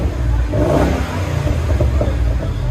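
Car exhaust revving through a Flowmaster Flow FX muffler with stock resonators still fitted, a loud, close, steady engine roar with small surges in pitch.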